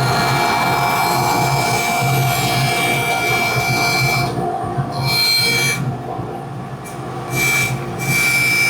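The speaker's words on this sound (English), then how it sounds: "I'll just take it to the bandsaw and now rip it to" A bandsaw rips a wooden board to height in a hand-tool woodworking shop, giving a steady close rasping cut with a constant motor whine that briefly drops away a few times near the end.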